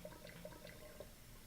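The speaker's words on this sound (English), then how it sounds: "you see water's running down." Tap water runs steadily in a chemistry lab, feeding an aspirator for vacuum filtration through a filter-paper funnel; a faint, continuous trickling wash with light bubbly patter, quiet and without talk.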